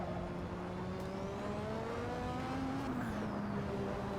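A McLaren MP4/4 turbocharged Formula 1 engine in Assetto Corsa at Spa drones steadily and loudly, with rising and falling whining tones from the turbo spooling up as the revs shift.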